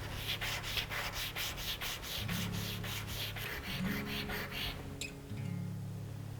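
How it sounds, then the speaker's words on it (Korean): Steady rhythmic scraping of paper sandpaper rubbing back and forth across the side edge of a resin jewelry piece, close and dry, with a faint low hum underneath. "종이 사포를 이용해서 옆면을 다듬어 주도록"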